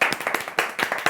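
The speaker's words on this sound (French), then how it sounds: "On aime beaucoup. Applaudissez." A French television studio audience claps briefly, a short burst of a few sharp, distinct hand claps close by.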